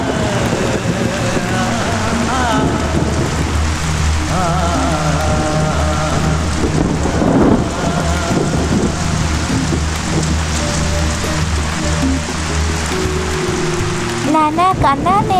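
Heavy rain pours steadily in a Telugu-dubbed film scene, a dense continuous wash under a constant music bed, with people talking over it; any thunder is buried in the mix.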